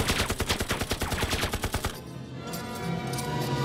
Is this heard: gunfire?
yes